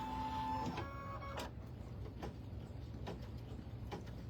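Embroidery machine stitching a placement line on stabilizer, a quiet series of mechanical thumps and ticks in an uneven rhythm after a short whirring hum at the start, close by with no talking.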